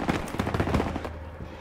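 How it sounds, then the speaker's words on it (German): Rapid bursts of automatic gunfire rattle in a Call of Duty: WWII battle, a fast run of loud, sharp shots that carries for about a second before breaking off into quieter background noise. "Schüsse! Unsere Jungs müssen in der Nähe sein."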